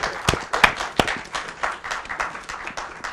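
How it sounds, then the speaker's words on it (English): A small audience at an academic engineering event gives light, uneven applause for student organizers, with distinct, separate claps at close range rather than a full roar. "Please clap for them."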